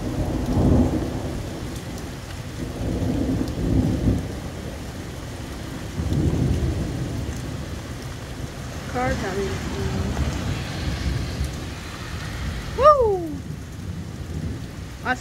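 Thunderstorm with rolling thunder and steady rain, deep rumbles swelling and fading several times over a constant wash of rainfall, with a person's voice briefly heard.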